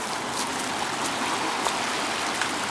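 Gales Creek flows steadily past a bridge, a continuous close rushing and babbling of water with no voices.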